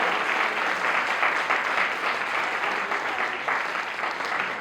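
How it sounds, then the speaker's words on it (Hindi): Sustained, dense applause from an audience at a corporate mission-and-vision event, steady and fairly loud throughout with no clear voices over it. "आप सभी के लिए जोरदार तालियां हो जाए।"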